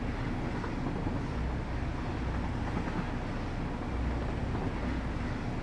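A steady low rumble and rolling drone from a train ride in the video game Satisfactory, continuous and even, without talk.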